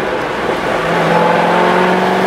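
A Corvette C6 Z06 fitted with a Corsa Extreme exhaust revs steadily up, its loud droning engine note climbing and holding close by, with no talk over it.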